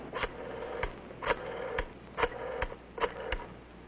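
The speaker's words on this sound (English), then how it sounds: "Flip the switch button, then dial a code number and the number you want, and presto." An old Bell telephone has its switch button flashed and a code and number dialed, giving a close series of evenly spaced mechanical clicks and thumps, about eight in four seconds, over a faint hum.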